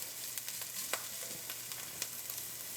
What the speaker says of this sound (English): onions, ginger, and garlic cooking all together